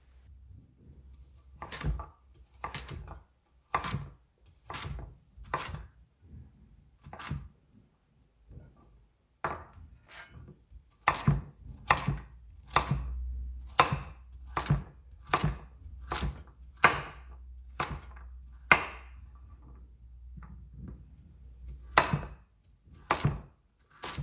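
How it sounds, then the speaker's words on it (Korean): A knife dices sweet pumpkin into 1 cm cubes on a cutting board, giving about two dozen crisp, close chops that come in short rhythmic runs separated by brief pauses, with no talk. "오늘 토핑용으로 사용할 단호박은 가로 1cm, 세로 1cm의 깍둑썰기 모양으로 썰어주세요."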